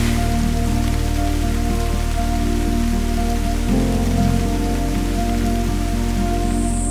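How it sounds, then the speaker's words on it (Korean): Steady rain falls on a forest in Thailand during the dry season, a dense, continuous hiss of drops on leaves and ground that stays even and close throughout, with no voices. "비가 오네요."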